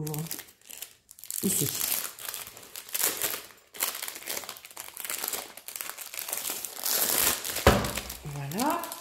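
Crinkling plastic wrap as a diamond painting kit package is opened, with bursts of rustling and tearing through most of the stretch, mixed with someone talking over it.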